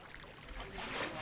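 Water trickles and gurgles along an open sewer channel in a village. The flow is steady and close and grows slightly louder toward the end.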